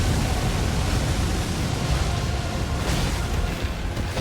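A fire attack in the Elden Ring video game roars as a dense, continuous rushing blaze, loud and steady throughout with a faint swell near the end, with no talk over it.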